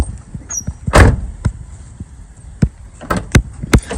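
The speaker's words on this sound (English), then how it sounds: "See, the door closes well." A 1999-2004 Ford Mustang passenger-side door closing during an interior seat and carpet overhaul, giving one firm thump followed by a few fainter knocks and clicks close by in a quiet garage.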